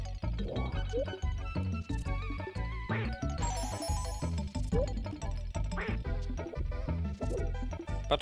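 A cartoon duck character quacks repeatedly in the Claymates video game, short sharp quacks and jump sounds layered over bouncy game music, close and loud.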